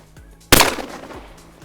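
A single loud shotgun blast fired at a flying clay target outdoors, a sharp close report followed by a fading tail.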